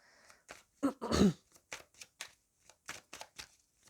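Oracle cards being shuffled for a tarot-style love reading, a series of short papery riffles and taps, one louder burst near the start and then lighter regular strokes, close and alone.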